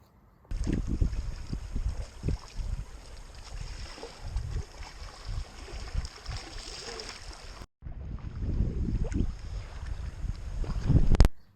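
Kayak paddle strokes churn the water in a forward paddling rhythm, with repeated splashes and gurgles mixed with gusty wind buffeting the microphone, broken by a brief gap midway.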